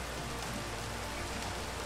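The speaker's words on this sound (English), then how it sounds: "it's raining, there's lightning" Steady rain falls in the Minecraft SevTech modpack, an even hiss of drops spread across the whole stretch with no thunder and no talk.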